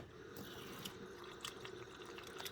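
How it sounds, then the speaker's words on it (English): Water is poured into a measuring cup while making a teriyaki pot roast, giving a faint, steady trickle with a few small splashy drips and no talking. "We're going to take that and we're going to add some water."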